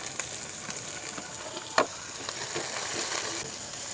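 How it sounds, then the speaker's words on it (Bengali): Tomato frying in a pan with onion for an eggplant curry, a steady close sizzle with a few sharper spits and a stir clink, no talk. "টমেটোটা দিয়ে আমি 10 সেকেন্ড মতন একটুখানি ভেজে নেব"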